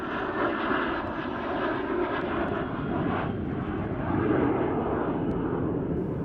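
A Cessna A-37 jet at an airshow gives a loud, continuous engine roar that swells slightly near the end.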